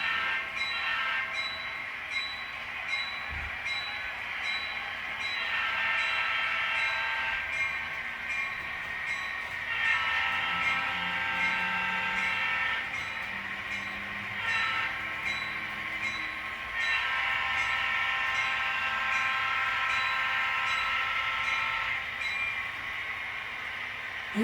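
An HO scale model steam locomotive runs along a layout track, giving a continuous mechanical whir with rhythmic rail clicks and puffing chuffs that rise and fall, close by without talk.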